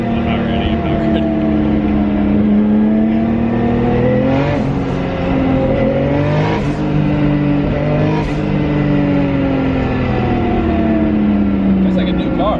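A rebuilt Nissan R33 Skyline with its RB26 engine revs hard and steadily, the pitch climbing and falling through several throttle blips over a constant loud drone, close to the microphone.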